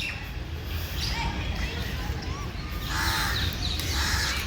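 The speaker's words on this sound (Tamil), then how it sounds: "குருவிங்க காக்காலாம் கத்துற சத்தம்" Crows caw several times near the Birla Mandir temple in Delhi, a few harsh calls standing out over a steady outdoor hum and faint babble of people in the distance.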